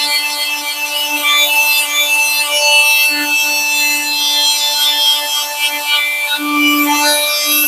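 Parkside 20V multitool sanding painted metal with 80-grit paper, a loud continuous buzzing rasp with a steady motor whine and slight shifts in pitch as the pad works the surface, with no talking.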